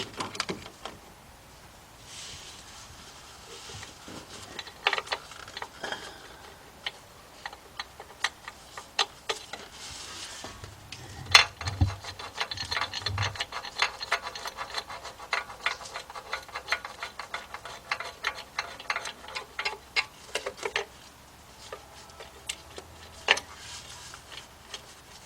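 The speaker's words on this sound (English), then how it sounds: "So now what I'm gonna do is bring these bolts tighter." Timing cover bolts being tightened by hand on a Chrysler engine, a faint, quiet run of steady ratchet clicks with scattered taps and small metallic clinks.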